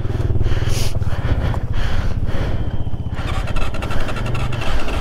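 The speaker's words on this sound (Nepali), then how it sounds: "अब म यो बाइक चलाउन आँटेको छु" A Crossfire motorcycle engine in Upper Mustang chugs loudly and close by, a fast, even putter that lightly shifts in pace partway through, with no speech.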